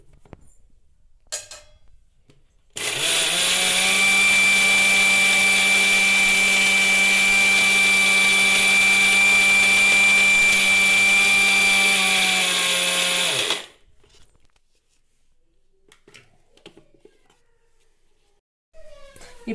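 A mixer grinder jar grinding a health mix powder for baby food runs loud and steady for about eleven seconds with a strong whining drone, then cuts off, with quiet handling sounds before and after.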